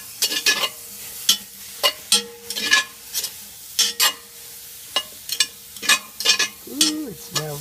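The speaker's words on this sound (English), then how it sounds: "So we're getting that nice sizzling sound." Onions frying in a hot pan over charcoal, with crackling sizzle under repeated scraping and stirring strokes, close and fairly loud; a few short vocal sounds appear near the end.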